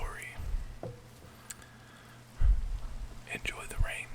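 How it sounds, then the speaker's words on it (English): Rain falls in the Minecraft video game as a soft, steady patter beneath a close whispering voice, with a few louder low thuds and brief sharp sounds scattered through. "I'm gonna let you guys just listen to some, rain before it disappears."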